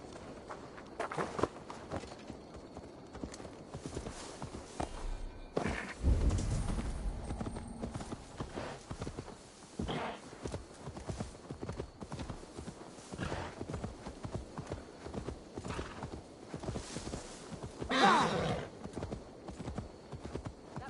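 Steady clip-clop of horse hooves walking at an even pace in Assassin's Creed Valhalla, with faint ambient game sounds and an occasional louder hoof stamp.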